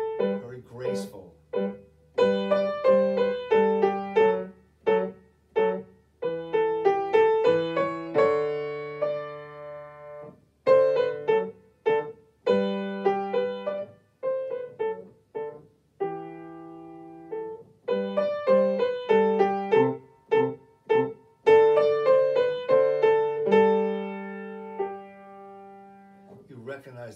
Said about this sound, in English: First one's a minuet in the style of Mozart.